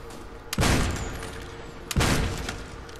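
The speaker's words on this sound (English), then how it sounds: "You just hear all my bullets just like inside there" Two loud, close bursts of gunfire a little over a second apart in COD: World at War Zombies, each a sharp blast followed by a rumbling tail of rapid shots.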